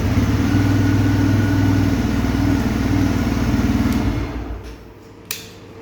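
A TVS Raider motorcycle with its check-engine light on runs loud and close with a steady low engine drone for about four seconds, then cuts off into near quiet, followed by a single sharp click.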